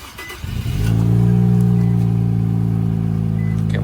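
A car engine cranks briefly and then starts after new sensors are installed, settling into a loud, steady idle with a strong low hum close by.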